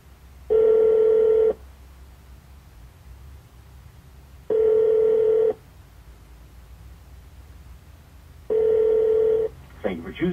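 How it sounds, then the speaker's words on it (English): Three evenly spaced electronic telephone ring tones, each about a second long, play through a GMC truck's Bluetooth hands-free system, with a faint click and rustle after the last one. "Dialing 1-403-580-5242."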